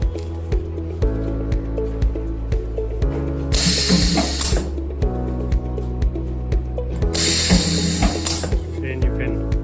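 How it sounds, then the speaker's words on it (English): An Electroweld longitudinal seam welder runs seam welding on 0.5 mm thick sheet, giving a steady mechanical ratcheting clatter with regular clicks and two louder bursts of hissing, crackling noise partway through, fairly close. "Then you can start seam welding."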